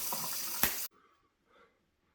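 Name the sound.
tap water running after installing under-sink filter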